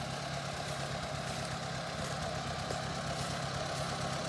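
A 1956 Ford 860 tractor engine idles steadily nearby, a continuous low rumble with an even mechanical hum and no voices.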